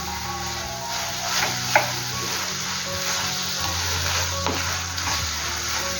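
Carrot halwa with sugar cooks in a pan over a low gas flame, making a continuous close sizzle with occasional scraping stirs and a brief knock.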